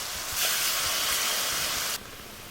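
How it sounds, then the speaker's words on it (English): White wine hisses and sizzles loudly as it hits a hot pan on a medium-high flame for a chicken cacciatore with Gaeta olives, a steady broad spray of steam that drops off abruptly near the end. "While the wine smokes on a medium-high flame"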